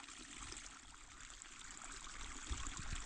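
Water runs steadily in a continuous rushing stream, fairly faint, with a couple of low thumps near the end.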